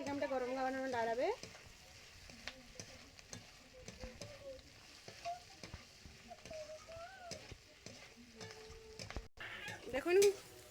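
Soybean chunks and capsicum stir-fried in a hot pan give a quiet sizzle under frequent clattering strokes of a spatula. Brief tonal voice-like sounds rise at the start and again near the end.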